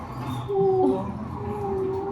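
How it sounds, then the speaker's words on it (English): Frightened dogs whimpering in a thin, wavering, high whine that rises and falls over a soft background hum. The whimper is fairly close and sounds in two stretches with a brief dip between them. "Sorry, the dogs got scared."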